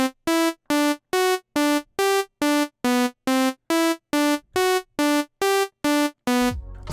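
A synth melody built in FL Studio with the Vital synthesizer plays as a steady run of about fourteen evenly spaced, bright, buzzy notes, loud and alone, ending in a short smeared tail.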